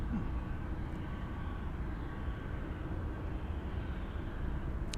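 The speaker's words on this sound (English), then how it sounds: "Here comes the plane that sounds like a train." Airplane passing overhead with a low, rumbling, train-like drone, steady and continuous throughout, moderately loud in cold weather at Barrow, Alaska.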